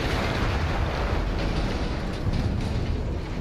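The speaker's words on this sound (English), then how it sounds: "That explosion was one of the sweetest sights of the war for me" An artillery gun blows up in the Battlefield 1 video game, a loud, sustained roar of rumbling blast noise that fills the whole moment without any voices.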